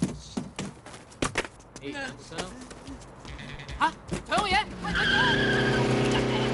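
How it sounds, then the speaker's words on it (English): A car speeds off in a movie scene, Jet Li's The Master, its tires squealing into a loud, sustained screech that builds toward the end, after a stretch of shouting and scuffling. "Dude, start the car!"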